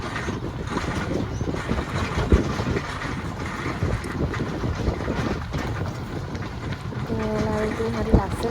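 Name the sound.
small tourist train running around a farm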